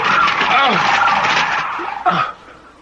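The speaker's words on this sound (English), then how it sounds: "The flamingos. The birds." A flock of flamingos attacks as a radio drama sound effect: a loud, dense clamor of squawking and flapping, then a sharp final burst before it thins out and fades.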